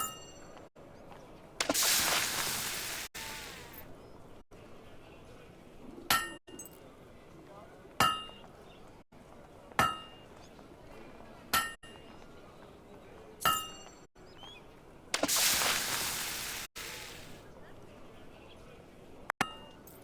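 Blacksmith's hammer strikes metal at a forge in Fable II, a series of sharp ringing clangs spaced every couple of seconds, with two bursts of hissing noise between them.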